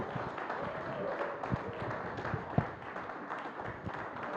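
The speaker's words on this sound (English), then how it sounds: "Please, may we stand and applaud this great man." A conference symposium audience standing to applaud a speaker, heard as faint, distant, steady clapping with a few sharper claps and light murmuring underneath.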